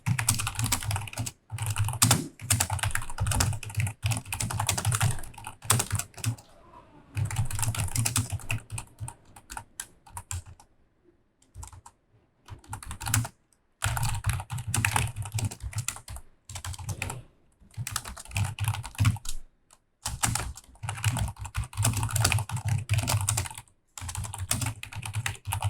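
Typing on a computer keyboard, with steady runs of close, clattering keystrokes broken by a few short pauses, no talking.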